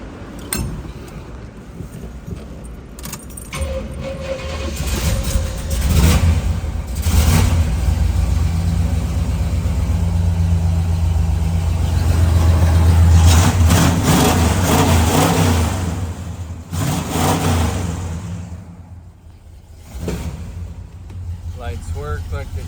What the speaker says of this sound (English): Just give it a little fire up there and then we'll pull the motor.